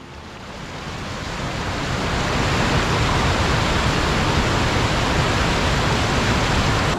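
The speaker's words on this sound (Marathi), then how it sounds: "इथे आपल्या धबधबा लागलेला आहे हा छोटा" A small waterfall in the dense Andharban jungle roars close by. The broad rushing noise swells over the first two seconds and then holds loud and constant, alone without speech.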